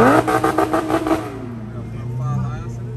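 A Lamborghini Aventador supercar accelerates on a city street in Balneário Camboriú, a loud, close engine roar with rising revs that cuts off after about a second, followed by lower rumbling and faint voices.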